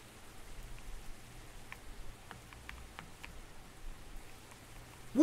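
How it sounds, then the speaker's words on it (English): Soft, steady rain patter from the horror video game Stagefreight, a faint continuous hiss with scattered small drop ticks, ending in a brief louder burst. "It's raining."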